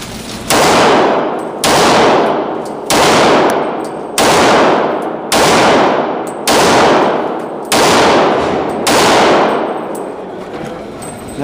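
Kimber Pro Carry II .40 pistol firing 180 grain jacketed hollow point rounds at a range, eight loud, sharp shots spaced about a second and a half apart, each with a ringing tail.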